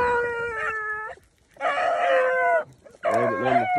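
Hunting dogs bay in long, wavering howls while chasing a rabbit in a rural field. Three loud bursts come close together, separated by brief pauses, with no talk.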